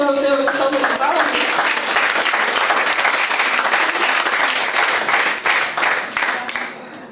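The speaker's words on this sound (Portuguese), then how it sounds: "Vamos receber o nosso pastor louvando o seu salve de palmas." A church congregation claps and applauds, a dense, loud, continuous burst of hands that carries the whole stretch and thins slightly toward the end.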